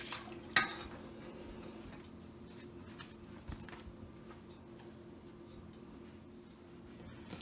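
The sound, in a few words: stirring fireweed and raspberry jelly mixture in a pot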